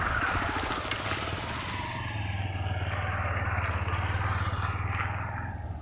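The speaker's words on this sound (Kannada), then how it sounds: "ನೋಡಿ ಬೈಕ್ ಮೇಲೆ ಬರ್ತಿದ್ದಾರೆ ನೋಡಿ ಈಗ" A motorcycle rides along a rural road, its engine running with a steady, throbbing putter that holds close and fairly loud for several seconds before easing slightly at the end.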